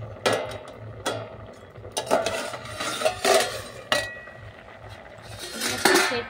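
A metal plate used as a lid is lifted off a pot of boiling raw mango, making several sharp metallic clanks and clinks spread across a few seconds against a quiet kitchen background.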